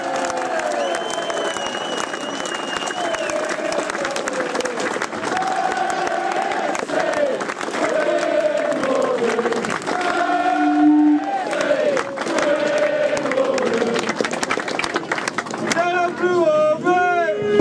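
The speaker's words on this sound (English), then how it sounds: "let's have a massive round of applause for the whole squad" AFC Wimbledon football fans at an awards event clap and cheer for the squad in a loud, sustained crowd roar, with chanting and shouted voices rising through it and a burst of louder cheering near the end.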